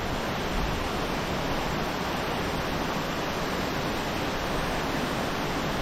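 Khlong Lan waterfall in the rainy season pours a massive volume of water, a loud, continuous broadband roar heard up close and unchanging throughout, with no voices.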